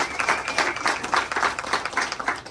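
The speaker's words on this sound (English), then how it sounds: "Give Kind a round of applause." Audience applause at a Philadelphia community roundtable on contracting and procurement, steady clapping of a modest crowd with no voices over it.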